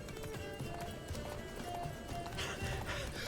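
Roach, Geralt's horse in The Witcher 3 video game, gallops with steady hoof clops under a dense game soundscape, moderately faint and continuous, with no clear talk over it.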